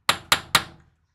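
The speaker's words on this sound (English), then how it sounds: "Should I have to have my little brass tack hammer out to knock that?" A small brass tack hammer knocks a stubborn bearing into its seat on an RC crawler part, three sharp, close metallic taps at an even rhythm, each ringing briefly before fading to silence.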